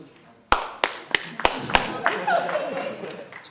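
A handful of audience members at a stand-up comedy show clap, starting with several sharp, separate claps in a loose rhythm, then thinning into scattered patter with faint crowd murmur.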